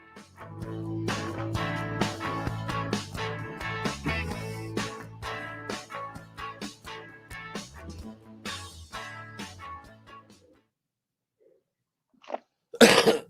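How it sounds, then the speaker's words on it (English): Music plays and then fades to near silence, and a single loud, close cough bursts out at the very end. "I knew you had that cough coming"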